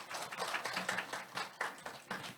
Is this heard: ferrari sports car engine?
no